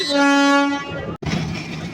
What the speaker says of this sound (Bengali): আর এই হচ্ছে আমাদের ট্রেন এটি কিন্তু একটা লোকাল ট্রেন